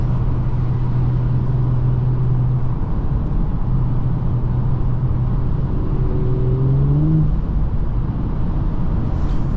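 A 2024 Audi S5 Sportback with its 3.0-litre turbo engine drives along a back road, a steady close cabin drone with a low engine tone that holds, dips and then rises in pitch near the end, with no talk.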